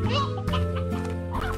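Chickens cluck in a Slime Rancher game scene, a close, busy burst of overlapping fowl calls that runs without a break.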